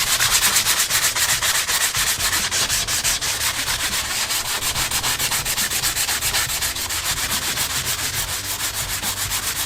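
Steady, loud rasping of sandpaper worked back and forth over the back of a Squier Mustang guitar headstock to strip its gloss finish, continuous rhythmic strokes close up with no talking.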